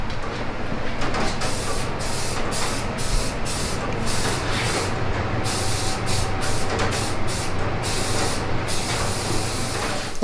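A spray gun hisses out a tinted mixture of Rustoleum paint and Raptor Liner in a series of loud, close bursts with short gaps between passes, and no one speaks.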